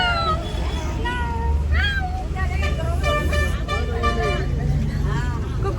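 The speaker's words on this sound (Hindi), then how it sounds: "बिल्ली किच करती है।" A cat meows repeatedly in short, rising cries over a steady low rumble of a moving vehicle, with horn-like tones, and a person talking at times.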